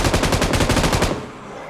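An M249 machine gun fires in a video game: one loud, close, rapid burst of about a dozen evenly spaced shots lasting roughly a second, then a short fading tail.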